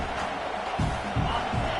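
A football stadium crowd roars throughout, a dense wash of cheering with a few louder surges near the end, and a voice talking over it.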